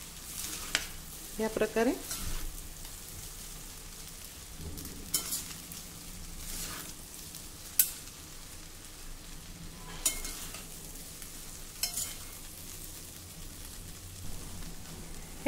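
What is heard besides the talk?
mixing cooked rice gently with two spoons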